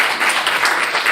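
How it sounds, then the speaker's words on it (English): Audience applause at a live expo event, with dense, steady clapping from a crowd filling the whole moment. "Round of applause once again"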